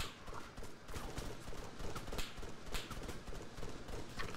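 Gunfire in the military shooter Arma III, a dense stream of rapid shots and impacts crackling at mid distance, irregular bursts overlapping without a break.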